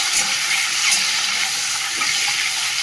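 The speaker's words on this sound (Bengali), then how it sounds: "চলো ডিমটা হালকা করে ভেজে নিই" An egg fries lightly in oil in a home kitchen, giving a steady, close broadband sizzle with a few small crackles and no voices.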